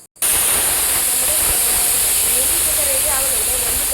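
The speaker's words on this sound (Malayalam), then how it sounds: "നമുക്കിത് മിക്സിയിലിട്ട് നന്നായിട്ട് നരച്ചെടുക്കാം." A mixer grinder grinds coconut with coriander powder and garam masala, a loud steady whirring hiss that starts abruptly after a brief pause and runs continuously to the end.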